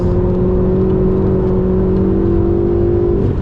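A Ferrari driven on the racetrack at Homestead Speedway, its engine holding a steady droning tone heard from inside the car, loud and continuous with a slight rise in pitch near the end.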